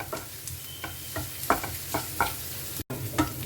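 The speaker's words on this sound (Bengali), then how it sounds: "পেঁয়াজটা আর একটু ভেজে নেব" Chopped onions with minced garlic and green chilli frying in a pan for a ridge gourd dish, a steady sizzle broken by repeated scrapes and stirs of a spatula, close and moderately loud with no talking.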